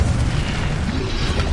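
A fire spell, Incendio, is cast in the wizarding game Hogwarts Legacy, producing a loud, sustained roaring whoosh of flame with a deep booming body that holds steady for about a second and a half.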